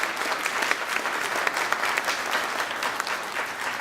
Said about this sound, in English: So let's give him some applause.